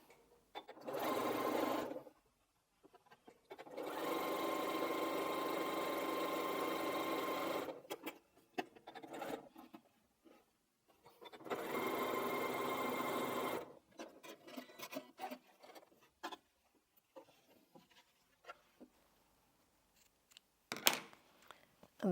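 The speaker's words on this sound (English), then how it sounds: "all that means is we just don't cut the thread in between, we just keep sewing." A sewing machine chain-pieces strips for a Bargello quilt, running in several whirring bursts of two to six seconds each. Short pauses separate the runs, and softer handling noises of fabric fill the gaps.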